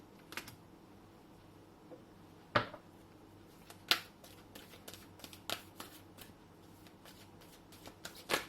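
Oracle cards are shuffled by hand, giving soft, quiet papery riffles and scattered crisp snaps and taps over a faint background hum.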